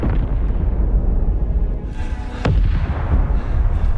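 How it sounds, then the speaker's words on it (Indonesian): A bridge blows up in a war film about Chinese troops fighting American forces, a heavy rumbling blast over a low, dense roar, then a sharp crack and a fresh burst of debris noise partway through. "Namun tiba-tiba terdengar suara ledakan dari arah jembatan tersebut."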